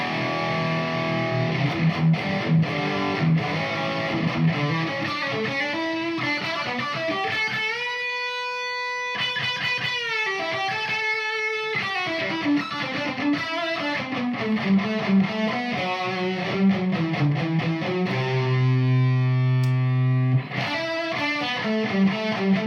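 Electric guitar through a tube overdrive boost playing chords and sustained notes with a gritty, distorted tone, loud and steady, with a brief thinner passage in the middle.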